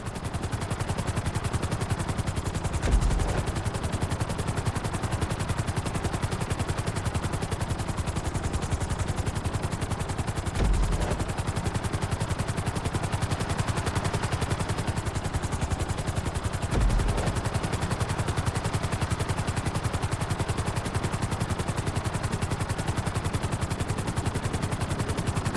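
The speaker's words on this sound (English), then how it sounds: "Bring the helicopter down gently onto the helipad." A helicopter in Grand Theft Auto V flight school hovers and flies, its rotor and engine producing a continuous loud drone with a few brief low thumps along the way.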